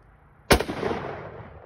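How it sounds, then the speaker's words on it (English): A single sharp gunshot from a firearm being fired outdoors, a loud sudden crack followed by a rumbling echo that decays over about a second, close to the microphone with no talking. "Now shoot another goddamn Nazi."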